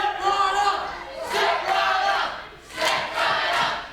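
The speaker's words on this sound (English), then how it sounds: "the crowd really into things" A live wrestling crowd cheers and roars in loud swelling waves that surge, dip briefly and rise again, filling the arena with sustained noise.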